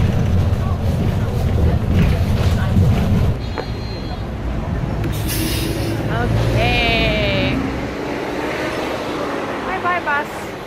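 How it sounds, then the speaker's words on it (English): A city bus pulls away on a street in Korea, its low engine rumble fading over a few seconds amid wind and street noise, while a person speaks briefly nearby. "Bye-bye, bus."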